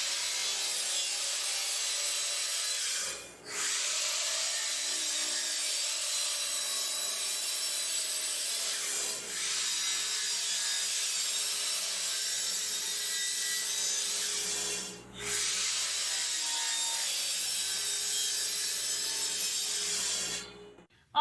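Wood boards being cut for a shoe bench with drawers, including an 11.5-inch cut. The saw makes a loud, continuous rasp that breaks off briefly three times between passes.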